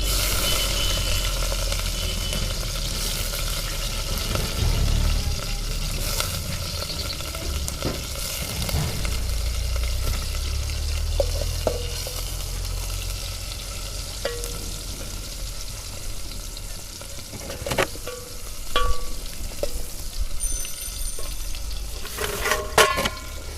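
Sliced onions fry in hot oil in a pan for a drumstick curry, a steady, loud sizzle lasting throughout, with occasional stirring scrapes and utensil clicks near the end.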